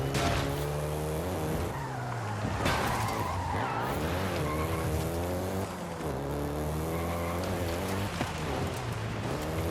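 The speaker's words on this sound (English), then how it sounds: "including the Golf GTI you're driving right now" Volkswagen Golf GTI, a car built in Mexico, driving in Forza Horizon 5: a steady engine drone with tire squeal and skidding, loud and continuous throughout.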